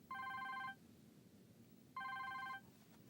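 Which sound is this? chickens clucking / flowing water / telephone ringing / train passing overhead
telephone ringing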